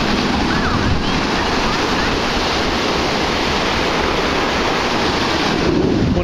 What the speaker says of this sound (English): The ocean is angry.